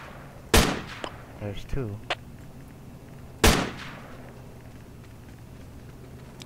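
Two sharp rifle shots in the Project Reality game, spaced about three seconds apart, each a loud abrupt crack with a short tail, with a brief spoken remark between them.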